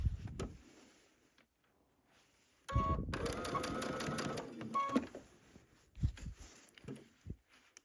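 A domestic sewing machine stitching quilt binding in short bursts, a rapid mechanical whir with ticking needle strokes that starts, stops and restarts, close and fairly quiet against a near-silent room.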